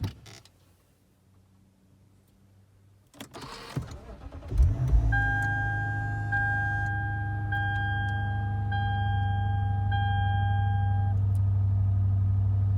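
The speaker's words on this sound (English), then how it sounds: "let's get the car started" After some quiet handling noises and a door thunk, a cold car engine cranks and catches on a 43-degree day, then settles into a steady idle while electronic chimes ring.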